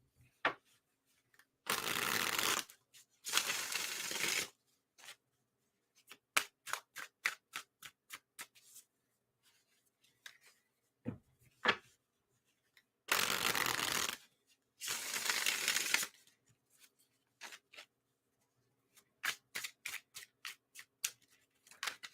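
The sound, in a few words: tarot cards being shuffled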